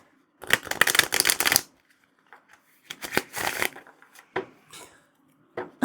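Linen-finish Tarot of Colors cards are shuffled up close in a few quick riffling bursts separated by pauses, with softer handling sounds between.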